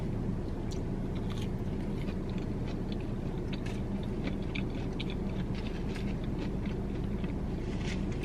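Shrimp with cocktail sauce being chewed at an Applebee's table, with close, steady crunchy bites and mouth sounds over a constant restaurant background murmur, no talking.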